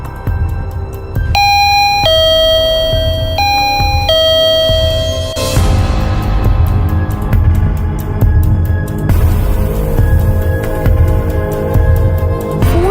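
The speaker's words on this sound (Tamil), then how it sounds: "இப்ப நீ தானே பெல் அடிச்ச?" A doorbell chiming a loud two-tone ding-dong several times in quick succession, followed by buzzing and humming electronic tones, with no one speaking.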